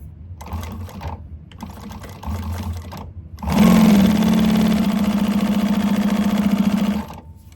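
A sewing machine stitches the bottom seam of a fabric candy bag, opening with a few short stop-start bursts and then running in one steady, close, even whirring run for several seconds before it stops.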